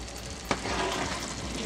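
Mexican red rice being stirred in a pot with hot water just added, giving a steady bubbling simmer with a single sharp scrape of the spoon near the middle.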